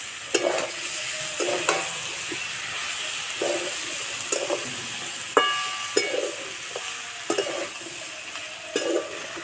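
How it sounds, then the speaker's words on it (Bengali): Spinach labra, a mixed vegetable dish with peas, being stirred in a pan, with repeated scraping strokes over a steady sizzle and steam hiss, close and moderately loud, with no talking. "কিছুক্ষণ পর চাপাটা খুলে নেড়ে দেবো।"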